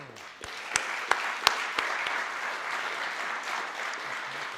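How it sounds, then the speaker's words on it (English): In-person audience at a Black Future Exhibition podcast recording applauding the guests, a dense, steady round of clapping with a few sharper claps standing out early, holding for several seconds without speech. "So we applaud you and we appreciate you."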